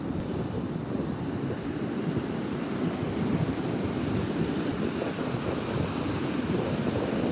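Ocean surf rolls onto a Texas beach as a continuous, fairly soft wash of breaking waves mixed with wind buffeting the microphone, steady throughout with no voices.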